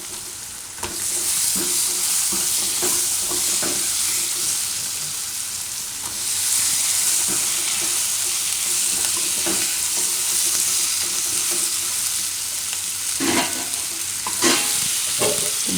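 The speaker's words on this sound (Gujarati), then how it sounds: "મિક્સ કરીને આપણે બટેટા નાખી દઈશું" Potatoes fry with turmeric, coriander-cumin powder and red chilli for a Gujarati soya chunk and potato curry, giving a steady close sizzle broken by repeated scraping stirs of a spoon against the pan.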